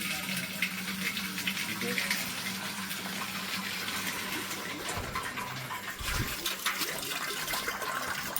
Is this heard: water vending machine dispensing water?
yes